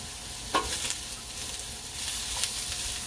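Regular vegetable oil heating in a pan, a soft steady sizzle with light stirring scrapes and a couple of brief clinks, fairly quiet and close.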